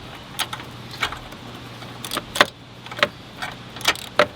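Battery terminals on a 2015 Honda Civic being tightened, a series of short metallic clicks and jangles of a wrench at irregular intervals over a faint steady hum.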